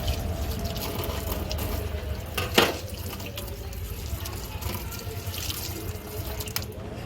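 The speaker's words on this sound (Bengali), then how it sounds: "এই জন্যই আমি কিছু অ্যালোভেরার পাতা কেটে নিয়ে এবার পাতাগুলোকে ভালো করে ধুয়ে নিলাম।" Freshly cut aloe vera leaves being washed under running tap water, a steady close splashing flow with one brief louder splash partway through.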